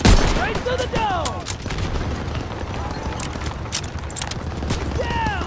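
Dense gunfire from a WWII-era video game battle, with bursts of MG-42 machine gun fire mixed with booms and rattling shots that run continuously and loudly, while voices call out over the firefight.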